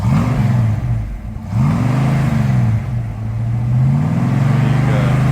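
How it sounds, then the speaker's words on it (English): A 1968 Ford Mustang Sport Sprint with a 289 V8 revs loudly and close by, its exhaust note rising and falling in two or three swells over a steady idle. "Can we give it a bit of a rev?"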